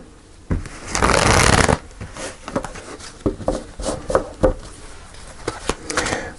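Tarot and oracle cards get a fast riffle shuffle, which gives a dense burst of papery flutter. A string of separate crisp card snaps and taps follows, close and clear with no talk.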